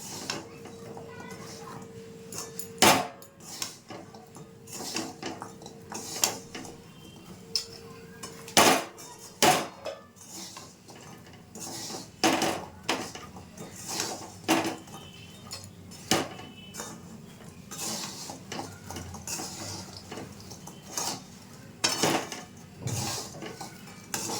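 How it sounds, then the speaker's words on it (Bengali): A utensil scrapes and knocks against a pan as murali sweets are stirred continuously with the gas flame off, giving irregular metallic clinks and taps over a quiet kitchen background. "গ্যাসের ফ্লেমটা কিন্তু বন্ধ করে দিয়েছি, এবার অনবরত নাড়বো।"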